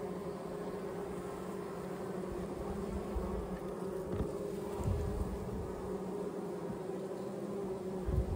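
Honey bees swarm around an opened backyard hive in British Columbia, a dense continuous buzzing drone close by, steady in level with slight swells as insects pass near.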